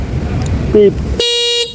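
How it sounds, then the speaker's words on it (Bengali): A single electric scooter horn on a Shadow Rabbit electric two-wheeler blares loudly for about half a second with a steady buzzy tone, following a short burst of background chatter and noise. "এটা হচ্ছে হর্ন"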